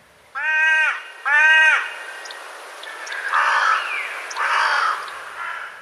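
Crows cawing up close: two loud, harsh, evenly spaced caws, followed by rougher, softer croaking calls from the birds.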